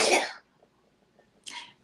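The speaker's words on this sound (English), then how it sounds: "just sneezed" A woman sneezes twice in quick succession, a loud sharp burst followed after a short pause by a second, softer sneeze, close to the microphone in a quiet room.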